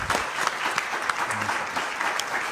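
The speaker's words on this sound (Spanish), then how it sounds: "Les pido un fuerte aplauso, por favor, para nuestro moderador" An audience at a formal panel discussion gives the moderator a brisk, steady round of applause, with dense overlapping claps throughout.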